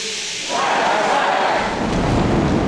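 A thunderstorm sound effect for a Jonah and the whale scene, a loud rolling rumble of thunder with a rushing wash of rain swelling in after a quiet half second and holding steady.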